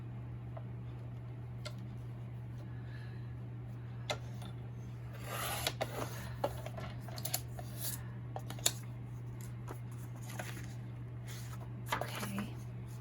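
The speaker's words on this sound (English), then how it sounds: "All right, I'm gonna cut it here." Antique book paper being cut with scissors for small writing journals, soft snips and rustling paper up close over a steady low hum, with scattered ticks and a few louder cuts.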